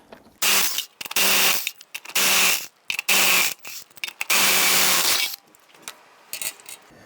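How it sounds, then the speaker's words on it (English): A power tool spins off the lug nuts on the driver's-side front wheel of a 1999-2004 Jeep Grand Cherokee with a 19mm socket: five loud, close, grinding bursts, each about a second long, separated by short pauses. "loosen and remove the lug nuts."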